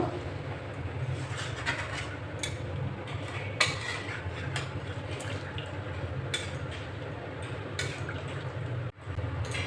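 Chicken curry with potatoes being stirred in a pot after water has been added, giving a steady liquid churning and bubbling with scattered spoon clinks, close and continuous with no talk.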